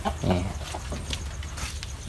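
Chickens at a rural farm in Loei, Thailand, a rooster among them, cluck and call in short bursts close by over a steady low rumble of outdoor background noise, with no one speaking.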